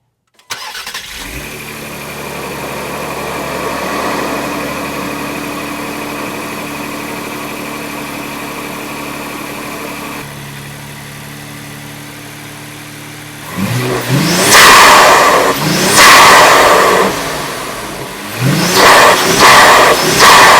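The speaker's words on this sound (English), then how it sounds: "We got the mic right there too to give you all the induction noises." A 2025 Ford Explorer ST fitted with a FenFab V2 cold air intake sits idling steadily for about thirteen seconds. Then come loud, close induction roars from several sharp revs, each swelling and falling away, with no talking.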